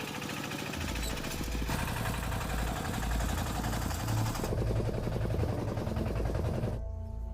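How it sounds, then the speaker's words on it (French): A farm tractor carrying passengers along a rural road chugs steadily with a rapid, rhythmic engine pulse, close and loud throughout, its tone shifting slightly as it drives, with no talking. "Et les voici partis à bord d'un tracteur."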